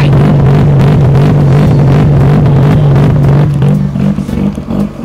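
Honda Jazz GK engine running loud and close at a car club meeting of Jazz GK cars, a steady droning idle with blips of revving before settling lower near the end.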